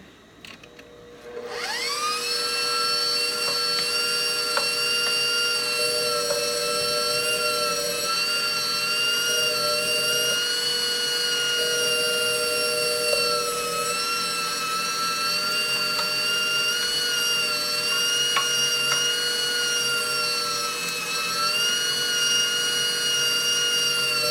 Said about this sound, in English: This is the attachment on my Kitchenaid mixer. I've already cut up some of the meat and I've got it in here, and I'm about to turn it on and grind.